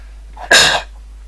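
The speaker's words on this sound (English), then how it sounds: "I'm gonna sneeze." A single sharp sneeze, short and close, breaking an otherwise quiet background.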